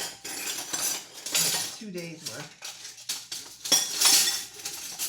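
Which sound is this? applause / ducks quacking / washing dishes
washing dishes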